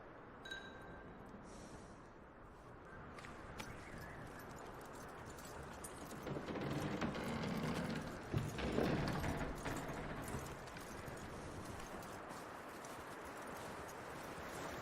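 Hooves of a horse clip-clop steadily on the ground in the video game Red Dead Redemption 2, a continuous walking rhythm at moderate volume with faint jingling tack.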